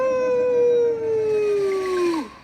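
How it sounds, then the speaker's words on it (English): Tang the orangutan, a character in a children's story, lets out a single long, loud howl that slowly falls in pitch for about two seconds before breaking off abruptly, heard alone. "Tang howled, startling everyone."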